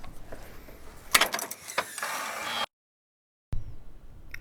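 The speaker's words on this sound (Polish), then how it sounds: "Maskę otwiera się specjalnym kluczykiem." On a Landini Landpower 165 tractor, a hood unlocked with a special key is swung up, giving a few close metallic clicks and clunks and a rattling lift before the sound cuts to silence, then a brief return of room noise.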